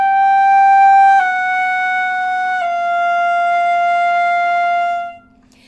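A flute plays a slow chromatic line descending from G, sustained notes stepping down a few times in half steps before the final note fades out.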